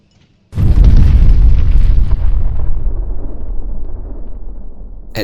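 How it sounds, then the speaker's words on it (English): A violent underground coal dust explosion in a mine erupts as a single loud, deep boom after a brief silence, then rolls on as a long rumbling roar that slowly fades. "A violent coal dust explosion had just occurred underground."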